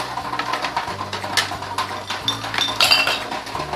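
Chicken bouillon cubes dropped into a pot of chicken sotanghon soup, giving a few light clinks and taps of metal and utensils against the pot over steady background music, with no talking.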